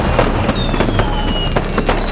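Diwali firecrackers burst in a dense, continuous barrage, loud crackling layered with rising whistles from rockets.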